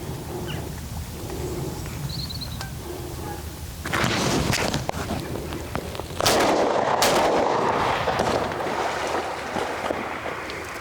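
Loud gunfire bursts from a Canada goose shooting at a morning flight outdoors, with two sharp broadband blasts about two seconds apart followed by sustained noisy outdoor rumble.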